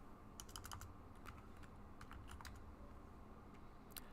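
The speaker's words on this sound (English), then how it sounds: "I do that by typing in my numbers and hit Tab as I go." Numbers being typed on a computer keyboard while drawing parts in CAD software, heard as a steady run of crisp, close key taps in irregular bursts, with a Tab press now and then, over low room hum.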